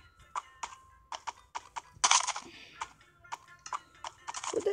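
Donkey hooves stepping in a blocky Minecraft-style video game, a series of short, crisp clip-clop taps in an uneven rhythm, fairly close and alone without talk.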